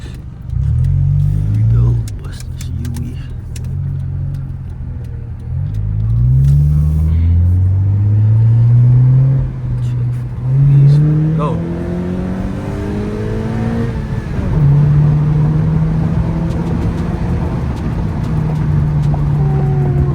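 A Honda Accord with a lit check engine light pulls away from a traffic light, its engine note climbing and rumbling through repeated rises as it accelerates, with a voice talking over the drive.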